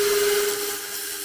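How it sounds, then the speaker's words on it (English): A rotary tool sands the pointed tip off a screw with a loud, steady high-pitched grinding whine and a faint tonal hum, easing slightly after half a second. "I'm just going to put the screw on the rotary tool"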